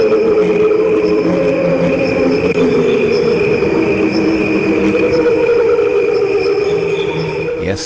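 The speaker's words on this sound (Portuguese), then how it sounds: "é o canto desacelerado dos grilos" Slowed-down cricket chirping forms a steady background chorus, with layered sustained tones and a continuous shimmering texture that stays loud and unbroken throughout.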